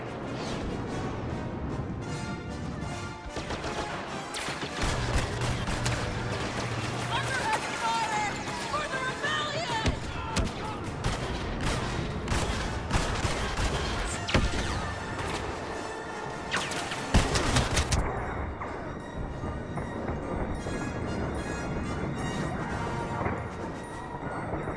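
Intense Star Wars Battlefront battle as troops fire blasters at an AT-AT Walker, dense crashes, blasts and whooshes piling up loudly and continuously, with voices talking in the mix.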